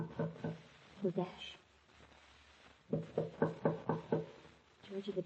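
In an old-time radio mystery drama, a sound effect of a series of firm knocks on a door comes in two rhythmic groups, with actors' voices faint around them.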